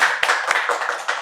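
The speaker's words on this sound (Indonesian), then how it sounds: "Tepuk tangan dulu buat Putra Wiramuda" An audience claps for a guest on a talk show, a brief, dense burst of many hands clapping at moderate volume, with no talk over it.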